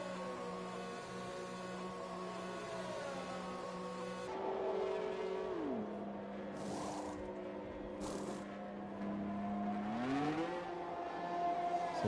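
An F1 2021 race car in the video game pulls out of its pit box at the Singapore circuit. A steady, whining engine tone shifts pitch partway through, then drops and climbs again as it accelerates away, with no talk over it.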